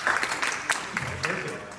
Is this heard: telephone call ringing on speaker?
no